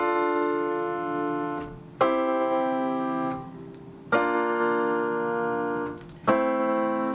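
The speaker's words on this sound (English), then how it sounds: "on the piano here, if I was just playing normal chords, it would sound like this" Piano playing simple block chords, three struck in a slow even rhythm, each held and ringing before the next.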